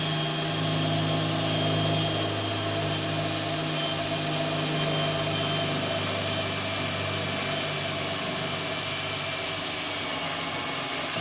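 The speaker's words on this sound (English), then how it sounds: "I'm going to take my drill." A loud, steady high-pitched mechanical whine of a power drill boring through metal runs continuously, with no talking.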